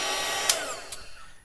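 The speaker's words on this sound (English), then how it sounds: "you can do it with a hairdryer" A handheld hair dryer blows steadily with a broad, airy rush, used to warm plastic parts during a model build; the tone holds fairly constant, with a couple of brief bumps, and fades slightly near the end.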